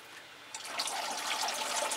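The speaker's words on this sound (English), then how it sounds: "just give it a watering like the rest one" Cymbidium orchid being watered with RO water mixed with nutrients and liquid seaweed, a soft, close trickle of liquid that starts after a brief quiet moment and pours steadily.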